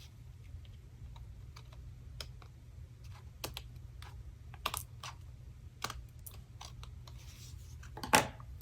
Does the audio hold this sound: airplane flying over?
no